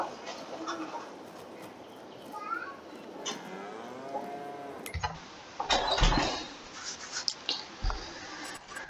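Cows mooing in the Farming Simulator video game: several drawn-out, moderately loud moos with soft farmyard ambience, including faint bird-like chirps, and a few thuds and clatters later on.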